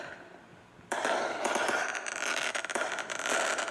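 A small Fourth of July firework bursts after a quiet moment, then keeps crackling and sputtering in a dense hissing spray for several seconds, fairly close outdoors.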